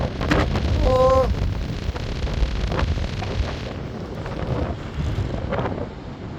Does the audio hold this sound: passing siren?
no